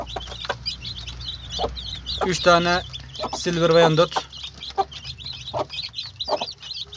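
Hens cluck and chatter near a hatch of chicks in a coop, busy repeated clucks with a louder drawn-out call in the middle, while someone talks over them.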